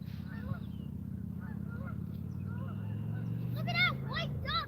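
A flock of geese, including one white goose, honks near a fishing spot, scattered calls growing into a burst of loud overlapping honks near the end over a low rumbling background.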